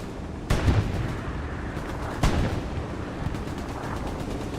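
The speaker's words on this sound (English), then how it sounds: "E-strike is coming down. Just barely misses Tony's tank." Air-strike explosions land in the Hell Let Loose video game near a tank in a competitive match on the Kharkov map, two sharp heavy booms a couple of seconds apart over a low rumbling battlefield bed.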